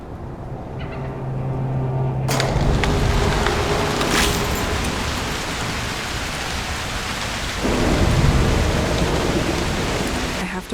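Heavy thunderstorm in the Broken Pieces video game, with dense loud rain pouring steadily and rolling thunder rumbling through it, swelling again near the end; no voices.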